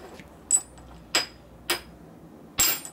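Four sharp metallic hammer strikes dimpling a kicker gear ratchet plate on a 1960s Harley-Davidson XL Ironhead, spaced irregularly with brief ringing after each, close and fairly loud against a quiet background.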